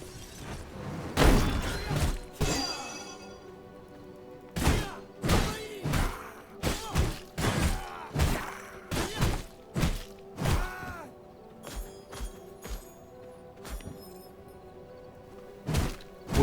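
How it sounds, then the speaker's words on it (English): Explosion boxes blowing open the gates in the video game V Rising, heard as a loud series of sharp booming crashes and thuds in quick bursts, some with debris clatter, with no talk over them. "put it in front of the gates, and you smack it and it goes ba-boom."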